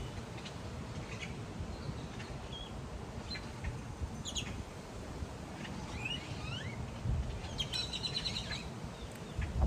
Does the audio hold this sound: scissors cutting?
no